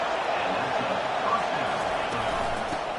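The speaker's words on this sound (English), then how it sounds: "It is getting loud as this crowd tries to help its defense." A stadium crowd in an American football video game roars in a dense, steady wash of noise, with a commentator talking over it.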